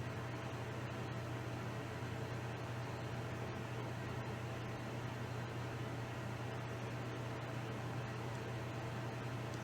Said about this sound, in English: Crank on our fume extractor.